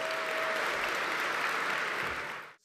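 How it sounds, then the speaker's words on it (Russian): Loud, sustained applause fills a large hall at a national youth year closing ceremony, a dense wash of clapping from a big audience that holds steady before cutting off abruptly near the end. "Самые громкие овации после объявления главы государства"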